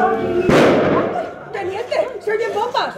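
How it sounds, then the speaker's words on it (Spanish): A single sharp firecracker bang bursts out loud and close during a lively outdoor festival reenactment of the 1938 Republican retreat in Flix, followed by people chattering and laughing nearby. "que será un petardo"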